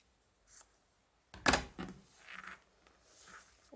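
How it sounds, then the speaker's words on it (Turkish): Scissors snip through a long cord meant for a bag handle: one sharp close cut after a quiet pause, followed by soft rustling and handling noises. "Uzun ipimi kestim arkadaşlar."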